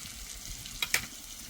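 Spice masala with a splash of water fried and stirred in a pan for an aloo potol dish with chana dal, a soft steady sizzle broken by a couple of quick scraping stirs.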